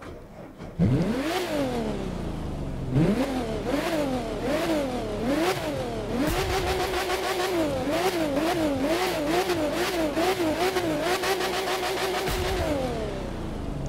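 A Porsche Speedster engine in a racing video game revs repeatedly, pitch climbing and falling in quick bursts, then holding a steady high rev, loud and close throughout.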